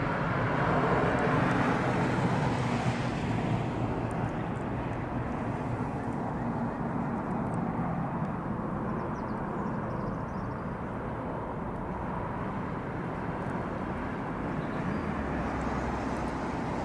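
Steady broadband roar of an airliner on or near runway 09R at London Heathrow, continuous and fairly loud throughout with a rumbling low end, blended with distant road traffic and no speech.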